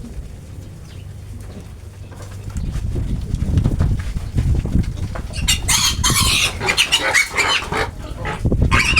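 Piglets at a farm, grunting and squealing up close in a busy overlapping chorus, with a brief burst of louder squeals partway through and no talk.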